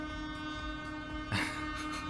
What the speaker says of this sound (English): Look at that little train. All that noise and all that kerfuffle for the tiniest little thing.